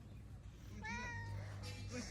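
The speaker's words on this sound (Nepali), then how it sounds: "अनि यहाँनिर त्यहाँ बिरालो छ" A cat meows once, clearly and close by, amid several cats roaming along a path, with a person talking over it before and after.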